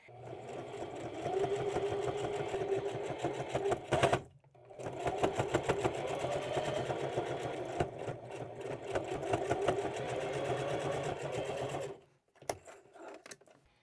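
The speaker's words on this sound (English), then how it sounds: "I'm going to top stitch along this lower fold, and I'm going to go over each strap end as I sew." Fast, rhythmic whirring of a sewing machine topstitching along the lower fold of a tote bag, running about four seconds, pausing briefly, then running steadily for about eight more before stopping.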